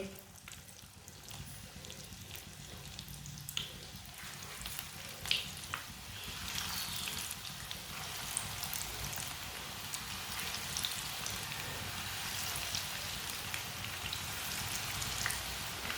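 Onions dropped into hot oil, a crackling sizzle that starts moderately, grows denser and louder as frying builds, and holds as a steady close spatter with no talking.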